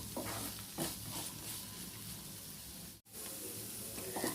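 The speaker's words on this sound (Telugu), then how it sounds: "ఈ క్యారెట్ బీన్స్ని ఒక 5 minutes వరకు ఫ్రై చేసుకుందామండి నూనెలో" Carrots and beans frying in oil in a pan, a steady soft sizzle and hiss with a couple of light stirring scrapes, fairly quiet and continuous.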